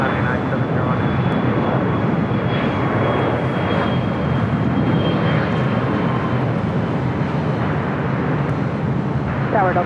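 Airliner taking off from a runway at LAX, a steady loud roar of engines filling the whole span, close and continuous with no break, with faint voices in the background.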